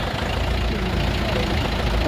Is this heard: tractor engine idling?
yes